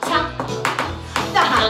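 Young children tap on the floor in time to a rhyme during a group session, a few sharp tapping bursts mixed with an adult singing over them.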